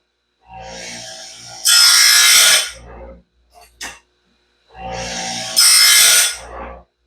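Grinding stone sharpening the teeth of a new Norwood Stellite bandsaw blade on a simple DIY setup, two separate bursts of whirring motor with harsh bright grinding, a short clack between them.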